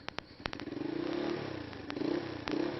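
A Nexium 150R motorcycle idling just after starting on its stock exhaust, a steady close putter with an uneven rough beat and a few sharp clicks and clatters.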